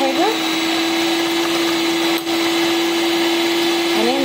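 A hand mixer or electric whisk whips instant Nescafe coffee with sugar into foam, a steady loud whirring motor hum that runs continuously, with a voice briefly heard over it.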